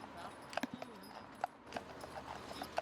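Shire horse driven in harness along a road beside a slip road, hooves clip-clopping in an irregular walking rhythm, close and clear, while someone speaks over it.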